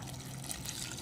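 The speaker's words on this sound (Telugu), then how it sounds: "వాటర్ అయితే యాడ్ చేద్దామండి" Water being poured into a pan of mutton roast with green chillies, a steady close pouring wash lasting about a second.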